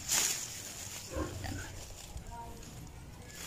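Backyard pigs being fed water spinach grunt and oink close by against a noisy outdoor background, with a person talking intermittently.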